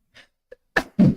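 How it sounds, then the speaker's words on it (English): A single sharp sneeze bursts out close by, preceded by a couple of faint breaths and catches, then ends abruptly. "Did sneeze, right."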